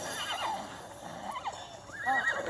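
Horse in the video game Immortals Fenyx Rising gives two clear whinnies, one early and a louder one near the end, over faint game ambience and a light clip-clop of hooves.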